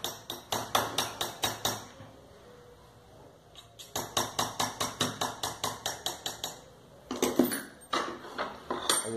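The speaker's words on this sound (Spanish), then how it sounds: "Lo doy con el martillo hacia abajo" Repeated sharp hammer blows on a metal car key blank in quick rhythmic bursts, with short pauses between volleys, close and fairly loud.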